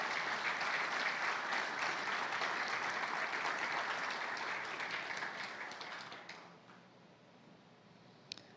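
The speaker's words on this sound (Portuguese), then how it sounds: "Aplauda o Senhor, glorifique o Senhor." Church congregation applauding, a dense sustained clapping from many hands that gradually thins and dies away over the last few seconds, ending with a couple of faint clicks.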